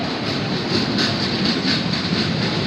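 A local train arriving at a platform at Kalyan Junction rumbles steadily along the tracks with a faint rhythmic clatter of wheels, loud and continuous, with no voices.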